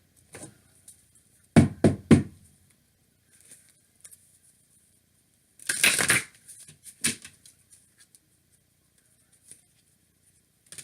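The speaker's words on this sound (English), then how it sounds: "Now we're going to pull your last card." Tarot cards are shuffled and drawn during a reading, heard as two quick bursts of riffling and slapping, then a longer shuffle and a few soft taps, close and alone.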